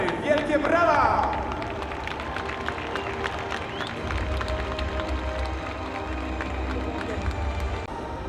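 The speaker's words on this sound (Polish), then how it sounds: "Wielkie brawa!" Crowd at the Antidotum Airshow in Leszno cheers and applauds a C-130 Hercules flare display, a steady outdoor clapping wash with some shouts, louder at the start and holding under a low engine rumble.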